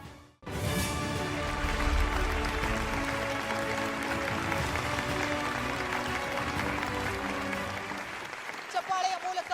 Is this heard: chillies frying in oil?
no